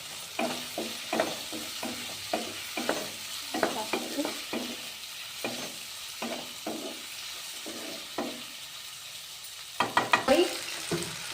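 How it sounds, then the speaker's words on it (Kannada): Thick tomato chunks and ginger garlic paste frying in a pan for masala rice: a steady sizzle punctuated by rhythmic spatula strokes, ending in a quick burst of vigorous stirring, without talk. "ಆಮೇಲೆ ಸ್ವಲ್ಪ ಟೊಮೆಟೊನೂ ಹಾಕ್ತಾಯಿದ್ದೀನಿ, ದಪ್ಪ ದಪ್ಪ ಎರಿಸ್ಬಿಟ್ಟು. ಚೆನ್ನಾಗಿ ಫ್ರೈ ಆಗುತ್ತೆ."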